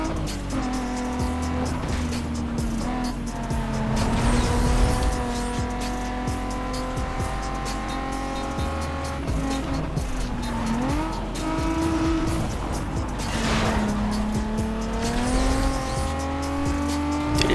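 A car in Need for Speed Most Wanted races at high revs with a steady engine drone, then its tires squeal in long skids under the handbrake, the pitch rising and falling as the engine shifts through gears.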